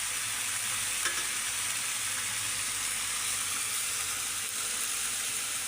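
An egg and tomato curry with broth is stirred gently in a pan, a steady soft sizzle with faint scraping running continuously, close by and without any voices.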